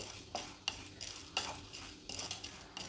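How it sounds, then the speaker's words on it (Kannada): Urad dal and chana dal dry roasting in a pan for chitranna masala powder, with repeated scraping and stirring strokes and a faint rattle of the lentils against the metal, close and steady, no voices. "ಉದ್ದಿನಬೇಳೆನೂ ಸ್ವಲ್ಪ ಮಟ್ಟಿಗೆ ಫ್ರೈ ಆಯಿತು"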